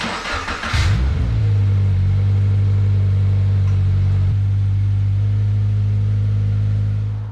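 A Subaru BRZ with a newly installed clutch starts up and pulls away on a night test drive, the engine revving up after a brief clatter, then holding a loud, steady drone before the pitch shifts and eases off.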